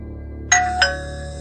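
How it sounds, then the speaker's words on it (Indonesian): A doorbell mounted on an iron gate gives two clear chiming tones in quick succession, a bright ding-dong whose ringing tail fades slowly in a quiet setting. "Kupencet bel yang terletak di gerbang besi."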